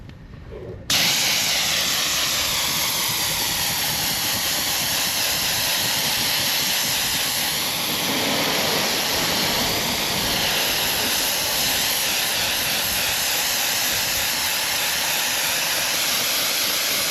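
A paint sprayer used for painting beehives hisses steadily and loudly for over fifteen seconds after a sudden start, a dense continuous broadband rush with little variation.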